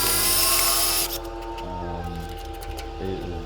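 A power drill bores out a broken air-fuel ratio sensor thread stuck in the intake manifold of a Lexus IS250, a loud whine that drops in pitch partway through, then steady grinding with fluctuating tone.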